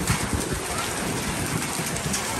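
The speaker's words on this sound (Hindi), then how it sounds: "बाकी बारिश हो रही है काफ़ी" Heavy rain mixed with hail pours down on a village as a loud, dense, unbroken hiss and patter that fills the whole stretch.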